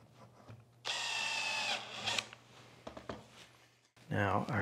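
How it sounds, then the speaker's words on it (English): A power drill whirs steadily for about a second boring a pilot hole, then stops, followed by small handling noises and a short burst of scraping. "I just want to go down in there and just start the little pilot hole"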